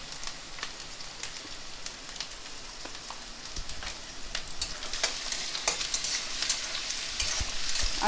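Asafoetida goes into hot oil for a vegetarian chana, giving a steady close sizzle with frequent sharp crackles and spatter that grow denser and louder toward the end.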